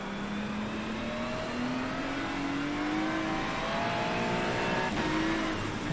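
A race car in iRacing driving on a wet track in the rain, its engine note rising steadily through a gear with a brief shift, loud and close with constant spray and road hiss underneath.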